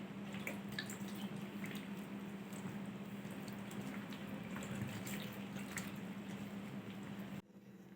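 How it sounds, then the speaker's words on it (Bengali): Water is poured little by little into a bowl to mix a batter, giving a steady, close trickling and splashing with faint drips throughout before it stops abruptly near the end. "অল্প অল্প করে জল দিয়ে একটা ব্যাটার তৈরি করব"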